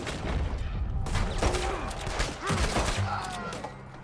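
Gunfire in the Western video game Red Dead Redemption 2: a burst of several loud shots and booms, irregularly spaced, mixed with game noise and a voice shouting.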